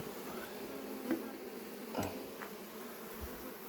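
Honey bees hum around an opened backyard hive, a faint, steady buzz with a few individual bees droning close by now and then, alone without voices.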